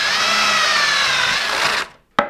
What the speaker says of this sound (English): then we'll take it off and drill them all the way through.